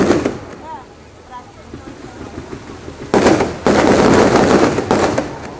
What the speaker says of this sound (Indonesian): masih kita saksikan bersama ini dia pesta kembang api